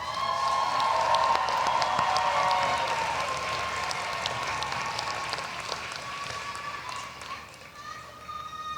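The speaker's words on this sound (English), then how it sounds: "give them a round of applause and thanks" Crowd at a nursing school commencement ceremony applauding, a sustained round of clapping that starts strong and slowly tapers off, with some voices and a faint tonal hum mixed in.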